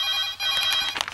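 A telephone rings in a comedy film scene, its bright electronic tone pulsing briefly and clearly with no talk over it.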